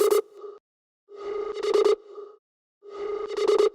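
A buzzy synth tone plays in three repeated phrases separated by silence, each swelling with a gritty, saturated edge, close and fairly loud.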